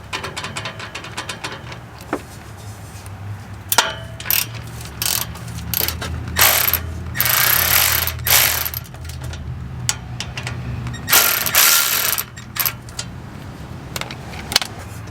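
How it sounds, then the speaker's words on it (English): A ratchet with a 14 mm socket works loose the exhaust clamp on a Ford Mustang X pipe, giving bursts of rapid metallic clicking and ratcheting with brief pauses, close and clear with no talking. "let me show you guys how to take off that clamp real quick"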